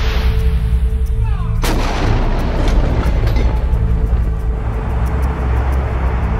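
An explosive fired for highway avalanche control near Rogers Pass in Glacier National Park lands as a single loud, sharp blast, followed by a long rumbling boom that rolls and echoes through the mountain valley and slowly fades.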